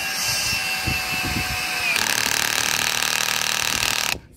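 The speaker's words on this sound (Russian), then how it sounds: "Берем шуруповерт с насадкой десяткой головкой на конце он и закручен." A cordless screwdriver with a 10 mm socket bit drives a fastener while anchoring a polycarbonate greenhouse to its foundation. A loud, close motor whine gives way to rapid ratcheting clutch clicks as the fastener tightens, then stops.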